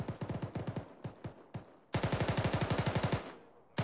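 Rapid automatic gunfire in a military shooter game, near and loud, first in short staccato bursts and then a sustained string of rounds before trailing off.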